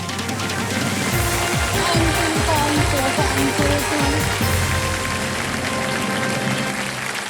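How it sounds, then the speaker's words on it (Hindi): A studio audience at a Kaun Banega Crorepati quiz-show taping claps loudly and continuously throughout, a dense sustained roar of hands with a few brief tonal accents and no pause. "धन्यवाद दे दीजिए इनको और ताली बजती रहे"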